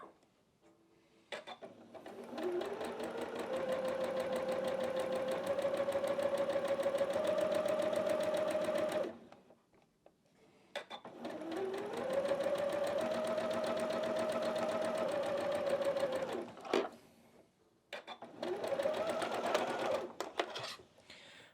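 A sewing machine stitches down a quilted snowman face block in three long runs of steady, close whirring motor hum, each stopping with a short pause between.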